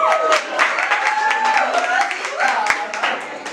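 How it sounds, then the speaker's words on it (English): Audience applause and clapping greet Siddiqa as she is introduced on stage at a motivational event, a steady spread of hands running under tonal voices or music throughout, moderately loud with occasional sharper claps. "Round of applause for Siddiqa."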